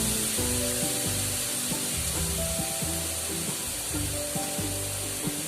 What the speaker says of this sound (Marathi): म्हणून हे 4 चमचे तिखट मसाला टाकते. त्याला चांगलं परतून घ्यायचं.